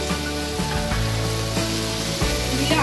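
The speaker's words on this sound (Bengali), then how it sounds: "সমস্ত উপকরণগুলোকে ভালো করে ভেজে মিক্স করে নিচ্ছি।" Omelette ingredients with potatoes, capsicum and tomato sizzle and fry in a pan, a constant loud crackling hiss with occasional stirring knocks from a utensil.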